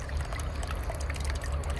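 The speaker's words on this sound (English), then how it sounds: "you just have this bubbling next to you" A small solar-powered fountain bubbles and trickles steadily in a bucket of water, a soft continuous close splashing with no talk.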